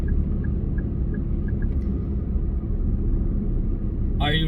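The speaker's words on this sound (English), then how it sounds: "Are you truly aware of the sound of the car?" Car interior while driving, a steady low engine and road rumble running continuously and fairly loud, with a brief higher sound near the end.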